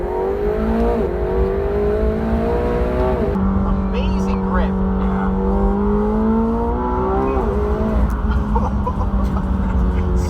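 A McLaren 720S twin-turbo engine drones and revs loudly in track mode, pitch rising and dropping through gear changes, with a person speaking briefly over it.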